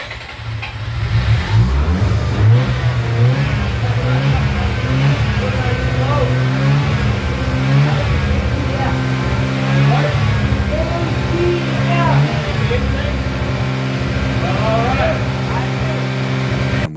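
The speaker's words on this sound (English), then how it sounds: "priming the engine with automatic transmission fluid bumped the compression enough to get it to start" A revived 1987 Mazda RX7 FC Turbo rotary engine runs after being primed with automatic transmission fluid, idling loud and close with a steady buzzing drone and repeated revs rising and falling throughout, with voices talking over it.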